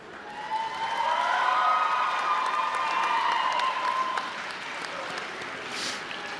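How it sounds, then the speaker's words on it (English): A graduation ceremony audience at Western Nevada College in Carson City applauds, a broad, steady wash of clapping from a large crowd that swells, holds, then thins slightly toward the end. "then give them a round of applause"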